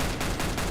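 Rapid gunfire from the player's own weapon in a competitive CS:GO match, a quick string of about four loud, evenly spaced shots close up, about five per second, with no talk over them.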